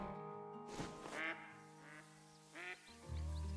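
Ducks, drakes and hens circling over a duck blind give a series of faint, distant quacks in irregular bursts, with no talking.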